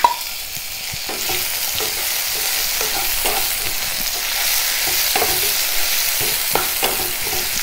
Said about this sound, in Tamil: இப்போ பாருங்கள் இதில் நம்ம வெங்காயம் நல்லா வதங்கிடுச்சு